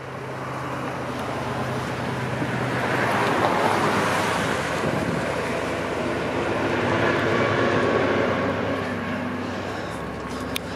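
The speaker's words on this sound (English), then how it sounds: "Oh, GO train!" A GO commuter train in Toronto rumbles past, a broad roar that swells to a peak and stays heavy for several seconds before gradually easing.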